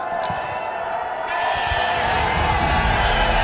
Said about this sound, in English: Well, all the Zalmi fans over here love you. They've been cheering for you.